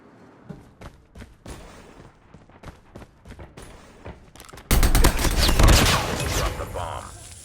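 In a Call of Duty Search and Destroy match, a Man-O-War rifle with thermite ammo fires, starting with scattered faint shots and clicks, then heavy loud continuous gunfire and impacts for the last few seconds.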